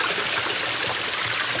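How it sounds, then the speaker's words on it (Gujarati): A forest stream flows steadily on a trek while drinking water is collected from it, a loud, close, continuous rushing and trickling with no voices over it. "તો પાણી ભરે છે હર્ષભાઈ."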